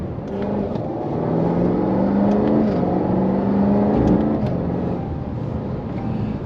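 A deep V8 engine roars steadily as a Jaguar XE SV Project 8 sedan accelerates, its pitch climbing and then shifting through gears, loud and close from inside.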